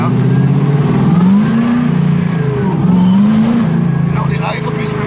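CN Cobra sports car with over 700 horsepower accelerating hard, its loud engine note rising and falling through gear changes, close and continuous, with a faint hint of tire noise.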